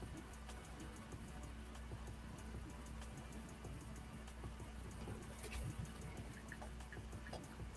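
Pigeons coo softly at a distance over a constant background hiss, with scattered light tapping throughout.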